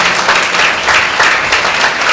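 A church congregation bursts into loud, sustained applause, dense clapping filling the whole moment without a break.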